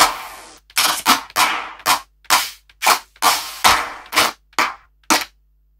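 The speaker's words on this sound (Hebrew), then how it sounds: "אני אוהב את הקלאפ הזה." A series of sharp, snappy trap clap drum sample hits, each with a short decaying tail, played one after another in a loose rhythm with brief silences between.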